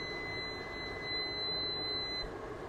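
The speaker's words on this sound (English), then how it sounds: "there was our timer" A kitchen timer goes off while a meal in a jar cooks, giving a quiet, steady high-pitched electronic tone that holds for about two seconds and then stops, with no talking.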